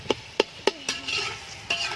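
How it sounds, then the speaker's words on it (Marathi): Onion with turmeric and masala is stirred in a pan, with several sharp spoon-on-pan knocks in quick succession over a soft, low sizzle. "आता कांदा मस्तपैकी पिवळा असा कांदा परतून घ्यायचा आहे"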